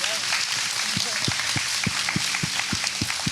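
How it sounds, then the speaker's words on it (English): An audience claps at a fashion week talk on upcycling, with a run of separate, fairly loud claps spaced at a steady rhythm rather than a dense roar, suggesting a modest crowd. "Can you guys help me give them a big applause?"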